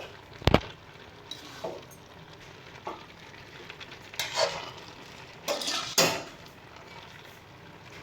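Cooked vegetables being stirred in a pan give a few scattered scrapes and clinks of a utensil against metal, quiet and irregular, with soft sizzling between the strokes.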